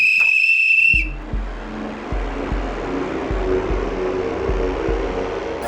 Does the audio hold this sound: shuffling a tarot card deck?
no